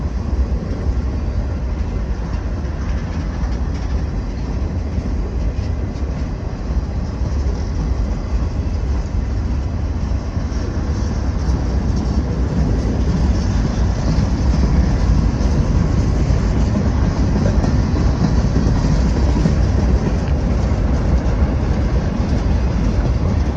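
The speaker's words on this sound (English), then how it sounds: "I'm filming a train" A train rolls past in Wildwood, a loud, steady, close rumble of wheels and cars on the rails that holds constant for over twenty seconds without a break, with no one speaking.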